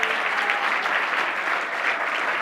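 Steady, dense applause from an audience at the Wisconsin Silver Circle honors brunch, a continuous even wash of clapping lasting the whole stretch with no voices rising above it.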